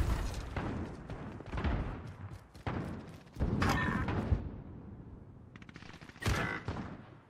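Rapid bursts of shotgun blasts and automatic gunfire in a video game firefight, loud and close, coming in several clusters with brief lulls between them.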